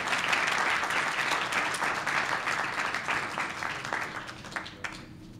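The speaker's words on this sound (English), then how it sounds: "Let's give him a round of applause as he comes" A crowd at a civic event in Rocky Mount applauds, steady full clapping that holds loud, then thins and tapers off toward the end.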